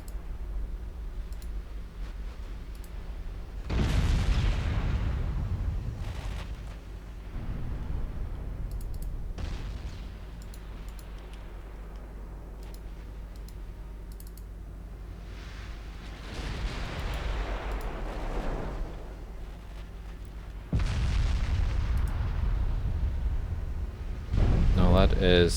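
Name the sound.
warship gunfire hitting enemy cruiser, video game Ultimate Admiral Dreadnoughts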